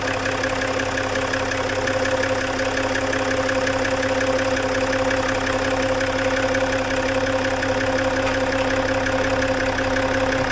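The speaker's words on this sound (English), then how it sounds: "I'm just going to start it now to see whether I can see any leaks" A Range Rover TDV6 diesel engine idles steadily just after an injector change, a continuous close mechanical drone with a faint knocking rhythm running unbroken and alone throughout.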